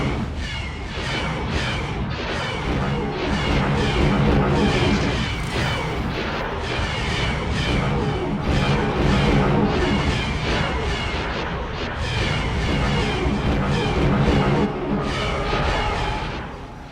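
Heavy weapons fire and explosions from an MC-80 star cruiser in a Star Wars space combat mod for X4, a dense continuous barrage of loud rumbling booms and rapid impacts with almost no talk.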